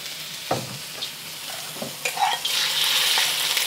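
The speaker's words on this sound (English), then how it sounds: "I'm going to add my pork" Pork searing in oil in a wok, with sharp scraping stirs and spatula knocks at the start, then a steady bright sizzle building as the meat hits the hot oil, close and fairly loud, no talking.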